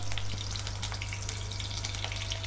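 Large onions, roughly cut, and curry leaves frying in hot oil for a Chettinad chicken gravy, a loud dense continuous sizzle and crackle close up, with no talk.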